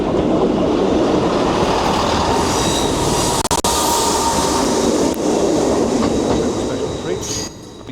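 A train rumbles loudly and steadily across a bridge at Barmouth, North Wales, wheels clattering and squealing faintly, with a couple of brief sharp clanks before the noise eases at the end.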